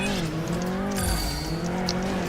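A car engine drones continuously in the Transformers Revenge of the Fallen video game, with a steady pitch that shifts slightly and tire squeals rising over it partway through.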